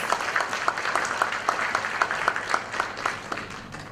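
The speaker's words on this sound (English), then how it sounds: "Please give him another round of applause" Audience at a Toastmasters opening session gives a round of applause, moderate and slightly thin, with distinct individual claps standing out in a loose rhythm over a soft background.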